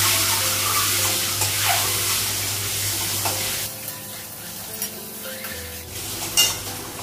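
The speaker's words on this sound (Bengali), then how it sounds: "ডিমটা ভাজা হয়ে গেছে" An egg fries in hot oil in a pan, giving a loud, steady sizzle at close range that eases partway through, with occasional scraping and stirring sounds.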